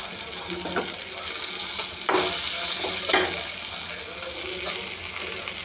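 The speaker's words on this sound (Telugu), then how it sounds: "పచ్చిమిరపకాయలు, టమాటా, ఎల్లుల్లిపాయలు బాండిలో కొంచెం నూనె వేసి వేపుకుంటున్నానండి" Green chilies, tomatoes and garlic fry in a little oil in a pan, with a steady broadband sizzle and a few sharp stirring clinks and scrapes standing out over it.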